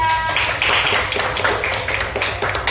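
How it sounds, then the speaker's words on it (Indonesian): A classroom group of students claps for a presenting group, a dense burst of applause lasting a few seconds, fairly loud and steady throughout. "Beri tepuk tangan untuk kelompok 5."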